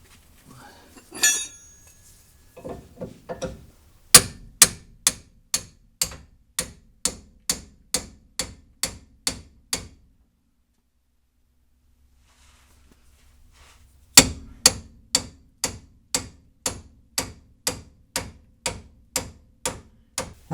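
A hammer pounds a stiff, never-replaced inner tie rod on a second-generation F-body front end, striking in two steady runs of sharp metallic blows about half a second apart, with a pause between runs. The blows are loud and close, with no talk.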